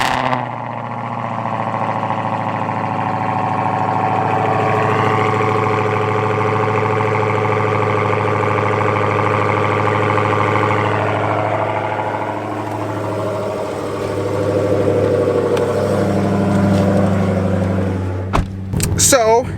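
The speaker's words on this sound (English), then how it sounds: "that cold start is always very sharp now with those mid-mufflers deleted" A car engine, cold-started with its mid-mufflers deleted, idles sharply and rumbles close by at a steady fast idle. The tone shifts slightly as the revs settle, ending in a few clicks and knocks.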